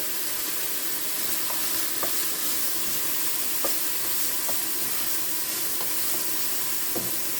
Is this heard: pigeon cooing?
no